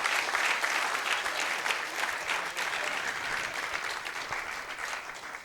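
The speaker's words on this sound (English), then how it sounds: "Please give some round of applause to her." Sustained applause from a seminar audience, steady and dense throughout with no voices standing out.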